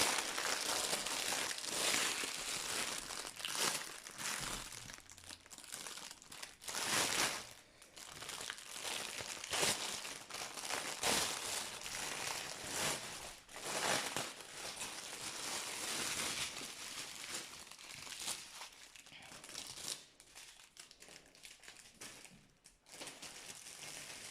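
Continuous crinkling and rustling of plastic packets of diamond painting beads being handled and torn open close by, steady throughout with occasional louder crunches.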